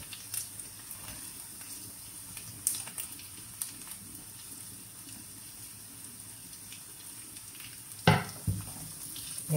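Carrots and onions fry in a pan for a vegetarian meal, a soft steady sizzle with occasional stirring clicks and a louder scrape near the end, fairly faint overall.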